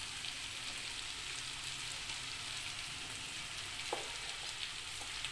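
Turmeric and spices sizzle in hot oil for zunka, a steady close frying crackle that fills the whole stretch without pause, with one or two brief clinks partway through.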